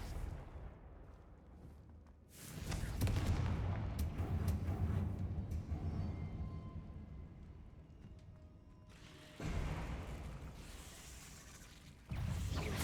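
Confringo fire spell in the Hogwarts Legacy video game, with several loud explosive blasts bursting in, each followed by a rumbling fiery decay, the first long and booming, later ones shorter and abrupt.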